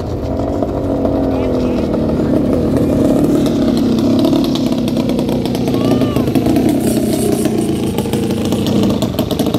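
Single-cylinder open-class racing boats compete in a royal trophy race, their engines making a loud, continuous buzzing drone that holds steady throughout, with a commentator's voice mixed in with the engine noise.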